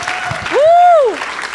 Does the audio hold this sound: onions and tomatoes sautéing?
no